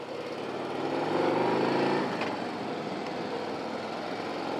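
A 2024 Harley-Davidson Road Glide CVO motorcycle engine runs steadily up close, swelling briefly louder before settling into an even, rumbling drone with no voices.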